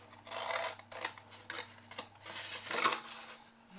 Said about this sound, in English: so we're just going to cut our little wedges out